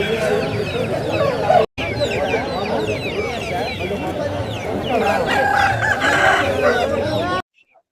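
Native country chickens and roosters at the Timiram poultry market in Anakapalli district crow and cluck loudly and repeatedly at close range, layered with busy crowd chatter, before cutting abruptly to silence.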